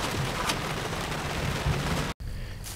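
A thunderstorm with steady, heavy rain gives a dense, continuous hiss and patter close by, with a brief dropout near the end; no clear thunderclap stands out.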